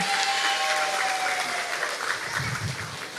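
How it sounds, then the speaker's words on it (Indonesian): An audience at a gathering in a community hall breaks into sustained, dense applause, many hands clapping together loudly, with a faint tone running underneath at first before the clapping thins slightly. "Kita beri tepuk tangan yang paling meriah Bapak Ibu"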